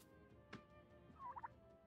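Turkey creature in the New World game's Thanksgiving event gives a faint gobble-like chirp, a soft thump, then a short burst of three quick chirps, fairly quiet against a steady background hum.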